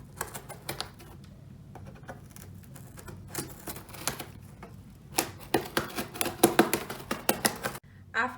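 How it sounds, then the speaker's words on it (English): A blade cuts a small flap in a cardboard box, giving bursts of close, crackly scraping and rapid ticking cuts that grow denser and louder toward the end, with quiet background between strokes. "all you have to do is cut this little flap"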